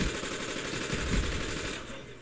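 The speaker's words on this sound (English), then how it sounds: "it's okay to stop firing when you miss your target" Sustained automatic gunfire from a Black Ops team deathmatch match: dense, rapid bursts rattle continuously at a steady, fairly loud level, easing slightly toward the end.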